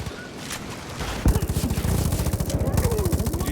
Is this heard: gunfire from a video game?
yes